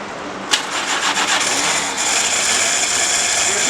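The engine of a 1946 Willys Jeep CJ2A cranks and catches after a fuel pump change, then runs on loud and close as a steady, rough rattling roar.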